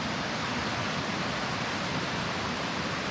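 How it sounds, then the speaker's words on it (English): A small river rolls downhill beside a mossy forest trail at Tea Pot Hill in Chilliwack, British Columbia, giving a constant, smooth rushing wash with no breaks. "It's a beautiful little river rolling its way downhill right beside the trail."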